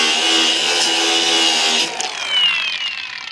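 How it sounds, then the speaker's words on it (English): An angle grinder fitted with a flap disc works over a metal spout, a loud, steady high whine that grinds for about two seconds, then drops and trails off as the disc spins down. "I'm going to take a grinder with a flap disc and just clean that up a little bit."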